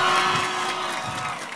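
A crowd on the left side of the grounds at a June festival cheers and shouts in a dense, steady roar, close and loud for the whole moment, with a thin tonal whistle or horn running through the first half.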